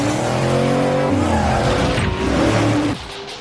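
An Eleanor Mustang built by Unique Performance revs hard as its tires squeal and skid, a loud close roar with sustained engine tones that drops off abruptly near the end.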